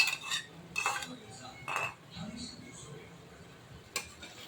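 Curd (yogurt) being whisked in a bowl, with a few clinking metal strokes against the rim and quieter scraping between them, close by, with faint background voice.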